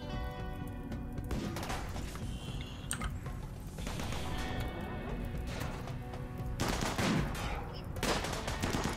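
Inferno cannon incendiary launcher firing in the video game RimWorld, a dense stretch of crackling bursts and sharp impacts with heavier blasts late in the clip, moderately loud.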